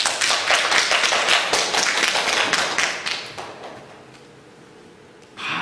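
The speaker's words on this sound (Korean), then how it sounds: "이럴 때는 좀 크게 박수 치는 건 좋은데." Church congregation clapping during a Korean sermon service, a loud burst of many hands that fades out after about three seconds, leaving quiet before a brief final sound.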